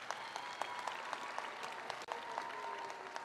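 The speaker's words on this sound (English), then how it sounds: "Let's give all of these graduates a big round of applause." A commencement audience claps for the graduates in a large hall: a dense, steady wash of applause heard from some distance, fairly faint, with individual claps popping out at a regular pace throughout.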